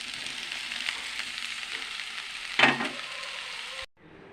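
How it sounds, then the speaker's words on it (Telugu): Ivy gourd pieces fry with onions in hot oil, giving a steady close sizzle broken by a brief louder scrape or stir midway before the sound abruptly drops away. "మళ్ళీ దొండకాయ ముక్కలు వేసేద్దాము."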